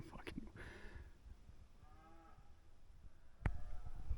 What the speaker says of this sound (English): so just ran into a random pack of cows.